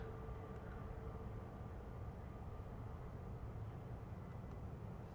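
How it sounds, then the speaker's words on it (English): Delta Airbus A330 airliner on approach to Schiphol, a faint, steady distant jet roar with a low rumble holding constant throughout. "A330 from Delta approaching"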